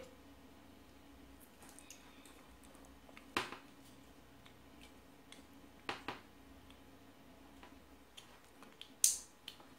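Three sharp, quiet plastic clicks spaced a few seconds apart against a faint background hum, an orange-wire network cable connector snapping into place in a home network outlet.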